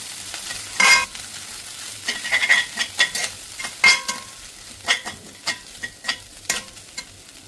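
A spoon stirs lentil fry (parippu) through masala in a pan, giving a run of irregular scraping and clattering strokes over a light sizzle, fairly close and with no talking.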